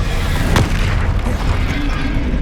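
A Confringo fire spell explodes in the Hogwarts Legacy video game, with a sharp blast near the start over a loud, dense rumble of battle noise that continues throughout.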